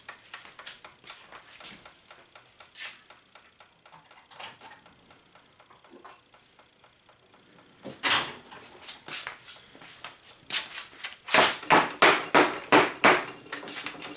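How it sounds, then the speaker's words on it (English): A plastic hammer strikes parts of a disassembled 6.2L Detroit diesel starter, with light tapping and clicks at first, then a series of louder, rhythmic blows near the end. "Plastic hammer."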